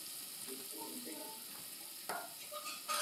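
Garlic frying in a pan over medium heat, a soft continuous sizzle with light stirring scrapes and a couple of brief clinks near the end, no talk.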